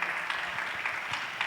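A church congregation claps together in a dense, steady patter of hands, with faint background murmur.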